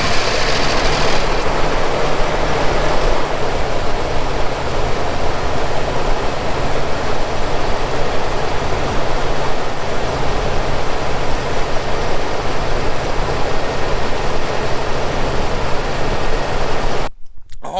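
A Nissan VK56 engine runs steadily after an oil change and an oil cooler leak repair, giving a loud continuous idle drone that cuts off abruptly at the very end.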